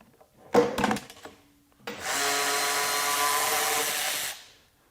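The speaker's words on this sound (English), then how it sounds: "So no problem whatsoever being able to run that off." A Milwaukee M12 FUEL 2566 high-speed cordless ratchet whirs steadily for about two and a half seconds while running off a nylock nut, following a short burst of clattering and a brief motor blip, then spins down.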